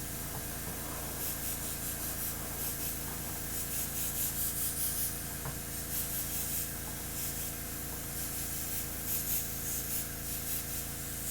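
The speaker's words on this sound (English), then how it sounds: "we'll actually go ahead and let it overspray a little bit of our target area" An airbrush sprays thin paint onto Warhammer tabletop terrain, a steady soft hiss with faint pulsing bursts as it is triggered, close and fairly quiet throughout.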